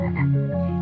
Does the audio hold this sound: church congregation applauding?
no